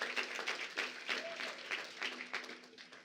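A crowd applauds at a National Action Network King Day public policy event for New York Assembly Speaker Carl Heastie, a steady, dense patter of many hands clapping at moderate distance, fairly soft and continuous for about three seconds.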